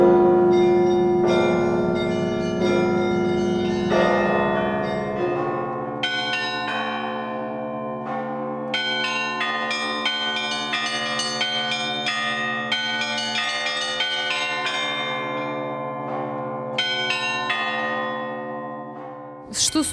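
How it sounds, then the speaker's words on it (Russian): Cathedral bells are rung by bell ringers in the belfry at a bell-ringing festival, the Russian-style peal swelling from deep tolling into a dense, rhythmic clangor of many bells with a long shimmering resonance. "Когда звонари выступали на колокольне собора"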